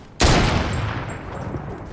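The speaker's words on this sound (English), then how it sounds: "Someone's shooting from behind you." A sudden loud burst of gunfire in the video game Fortnite breaks out after a brief quiet moment, then a rumbling, crackling tail of further shots fills the rest of the moment.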